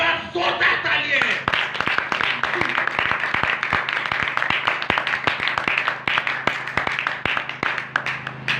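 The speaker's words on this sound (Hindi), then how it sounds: "एक बार जोरदार तालियां।" A church congregation claps during a Christian sermon, sharp hand claps landing in a rough, uneven rhythm throughout, with some voices mixed in.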